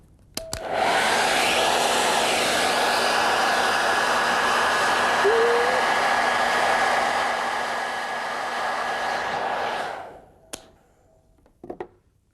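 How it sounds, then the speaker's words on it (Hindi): A hair dryer runs for about ten seconds as a steady, loud, close whooshing hiss with a faint whine, then switches off, followed by a few light taps and clicks. "अब इस हेयर ड्रायर को देखिए, ये सिर्फ बाल सुखाने के काम आता है नहीं"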